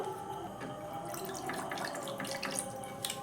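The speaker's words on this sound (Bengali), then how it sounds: "এবার এই সসগুলোর সঙ্গে সামান্য একটু আমি জল মিক্সড করব একদম অল্প পরিমাণ জল" A small amount of water is poured into a homemade soy sauce mixture, a soft, steady trickling splash that is fairly faint, with no talking.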